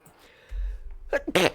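A single sharp sneeze from a person during a tabletop roleplaying game session, close and brief, following a quieter stretch with a low thump and some faint background murmur.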